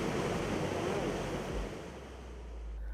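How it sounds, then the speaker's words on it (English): Waterfalls in Nyungwe Forest, Rwanda, send up a broad, steady roar of rushing water that eases slightly partway through. "Thundering waterfalls"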